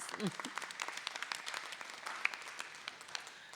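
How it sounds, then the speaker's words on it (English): Applause from an audience at a school board meeting, greeting news of the Falcons' second straight Suburban Council championship; dense, fairly faint clapping fills the moment with a brief voice at the start. "A round of applause"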